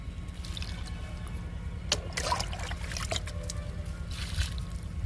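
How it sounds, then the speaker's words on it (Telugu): Soft splashes and trickles of water are poured from a mug onto the soil of a potted jasmine plant on a terrace a few times, quiet and close, over a low background hum. "మల్లె మొక్కకి వాటర్ ఇస్తున్నాను"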